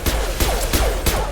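Rifle fire in the video game Mass Effect 2 comes as four loud, evenly spaced booming shots about a third of a second apart, each followed by a short ringing tail, close and dominant with no talk.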